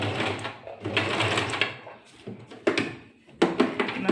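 A sewing machine runs in short stop-start bursts of stitching during overlock finishing practice on fabric, with brief knocks and pauses between runs.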